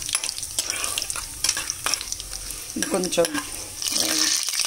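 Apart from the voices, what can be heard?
onions and cumin frying in oil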